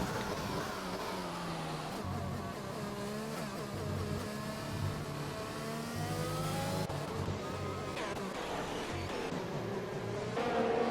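Race cars in the F1 2021 game at the Abu Dhabi Grand Prix, engines whining and shifting as they run side by side and fight for position, a continuous layered drone with rising and falling pitch.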